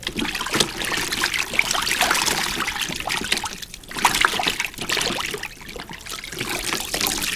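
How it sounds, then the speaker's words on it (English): Produce swished by hand in a basin of soapy water, sloshing and trickling splashes in uneven surges, close and fairly loud, with brief lulls between strokes. "Take the produce, agitate it in the water for approximately 10 seconds."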